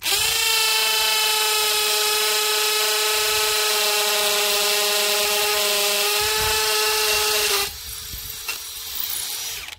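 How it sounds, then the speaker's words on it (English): An Ozito 18V brushless hammer drill whirs at a steady high pitch while boring deeper with its bit, loud and close. The motor winds down and stops near the end, leaving a faint rattle. No one speaks. "It's actually pushed the drill bit in. Let's see if we can go a little bit deeper."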